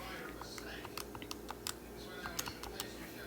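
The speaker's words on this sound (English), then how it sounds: "Hold on, I'm typing it in." Quick, light tapping of calculator keys entering numbers in irregular bursts, close by and fairly quiet, with a soft background hum.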